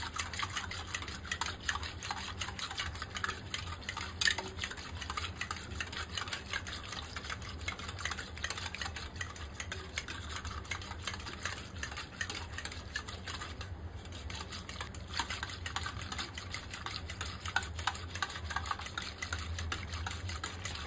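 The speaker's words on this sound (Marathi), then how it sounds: "तर आता हे चांगलं आपल्याला हे मिश्रण आता घुसळून घ्यायचं आहे सगळं" Buttermilk is churned with gram flour, salt and a lump of jaggery for kadhi, giving a steady, busy clatter and slosh that runs for the whole stretch at an even level with no voices.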